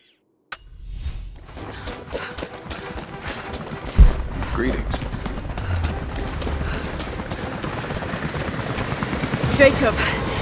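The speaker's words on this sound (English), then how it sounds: "Jacob, helicopters are headed your way." Helicopters approaching in the video game Rise of the Tomb Raider, a rising rotor drone that grows louder under game effects, a sharp impact and shouted voices.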